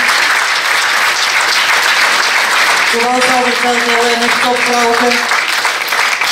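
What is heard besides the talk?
audience applause at a pageant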